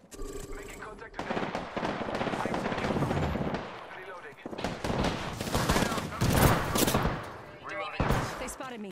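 Heavy gunfire in the online shooter Apex Legends, with sustained overlapping bursts and rattling shots, loud and dense throughout, mixed with game effects and some voice chatter.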